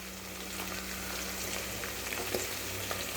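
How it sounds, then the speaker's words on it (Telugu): Green chillies and curry leaves frying in a pan with salt while making aloo pulav give a steady, close sizzle, an even hiss that holds at one level with a few soft pops and no voices. "ఇది మంచిగా ఫ్రై అవ్వాలి"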